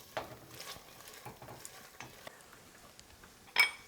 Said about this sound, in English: you just want to get that in there and kind of stir it around